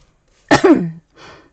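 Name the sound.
cough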